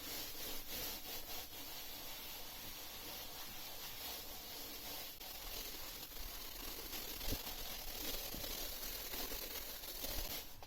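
Hands rubbing sheep fleece during wet felting, a continuous close scratchy rasping and rubbing with soft wet friction, steady and unbroken, with no talking.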